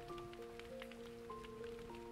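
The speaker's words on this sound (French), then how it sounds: "Des gouttes de pluie recommencent à tomber. Vous entendez leur doux bruit sur les feuilles des arbres et sur le sol." Soft, steady patter of raindrops falling on tree leaves and the ground, faint and continuous, with quiet sustained musical tones underneath.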